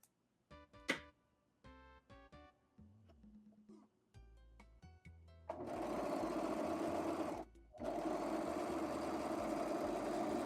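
A sewing machine runs in steady loud bursts with brief pauses, stitching lace pocket pants, preceded by scattered clicks and short mechanical sounds as it starts up.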